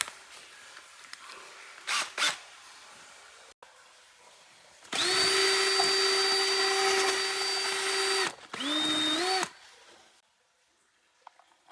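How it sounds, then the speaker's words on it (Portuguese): A power tool enlarges a bolt hole on a Volkswagen Brasília during a fuel pump replacement, running in two steady, loud whining bursts, one about three seconds and a shorter one after, with brief clanks before. "eu só vou alargar um pouquinho esse furo e vai dar bom"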